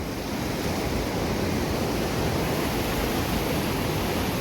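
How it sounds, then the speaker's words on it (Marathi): Floodwater rushing during heavy monsoon rain in Dapoli, Konkan, a loud, continuous broadband roar of churning water, steady and close with no breaks. "जोरात पाणी आहे."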